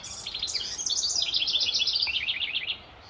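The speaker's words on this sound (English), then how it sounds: "What bird is singing up there?" A songbird sings in a spring garden, a steady run of bright, rapid chirps and trills repeating for nearly three seconds before stopping abruptly, heard clearly against quiet background.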